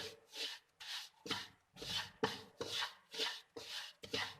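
Semolina roasts in oil as a spoon scrapes and stirs it round the pan in steady rhythmic strokes, about two per second, each a dry gritty rasp close up, with no one speaking.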